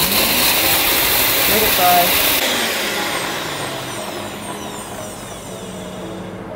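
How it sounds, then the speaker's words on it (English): An electric spice grinder blitzes kofta spice mix with a loud, steady whirring roar that winds down toward the end, with a brief spoken remark over it. "go and put it on the noisy machine and blitz it"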